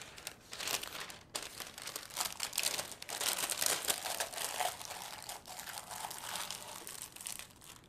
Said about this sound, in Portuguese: Vamos cortar papel manteiga e forrar a nossa forma.